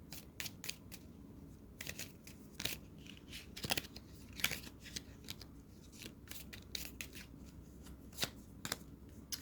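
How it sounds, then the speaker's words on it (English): A tarot clarification card deck is shuffled in a quiet room, giving repeated crisp riffling bursts and soft card slaps in an irregular rhythm, close and fairly clear with no voices. "let me get my handy clarification deck and clarify these messages"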